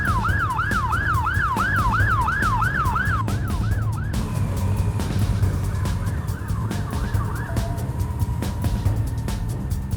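A police siren yelps in a rapid warbling cycle, then shifts to a slower wail and fades under steady road noise.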